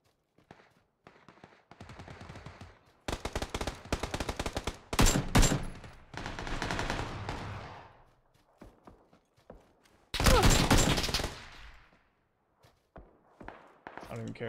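Gunfire in the battle royale game PUBG, heard as rapid bursts of automatic fire and single loud shots in clusters across the clip, with a player talking between them.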